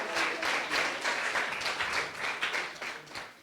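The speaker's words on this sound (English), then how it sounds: "Give yourselves a round of applause." A small group at a media camp applauds themselves, a brief spell of scattered clapping that stays fairly quiet and distant throughout, without anyone speaking over it.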